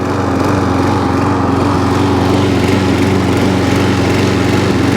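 A Viking (Stihl) lawn mower engine, low on petrol and with a drive problem, runs steadily close by with an even, buzzing drone that never changes pitch, and no one speaks.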